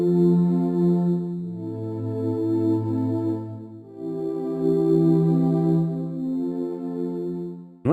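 Soloed warm synth pad playing a MIDI clip of sustained, evolving chords, loud and continuous with a change in harmony midway and no voice over it.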